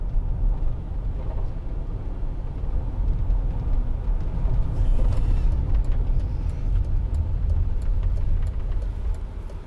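A 2008 Mercedes-Benz SLK200 Kompressor with a supercharged 1.8-litre engine being driven, giving a steady low engine drone and road rumble from inside the cabin, fairly loud and continuous throughout with no talking.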